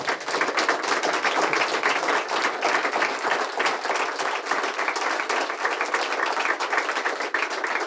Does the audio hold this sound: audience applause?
yes